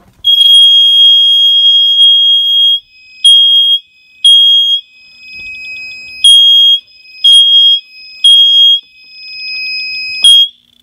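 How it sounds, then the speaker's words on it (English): A home security system alarm in a bedroom gives loud, piercing high-pitched beeps, first one long tone and then a series of shorter repeated bursts with gaps between them, similar to a smoke alarm. "I don't like having that alarm on for too long because it sounds too much like a smoke alarm."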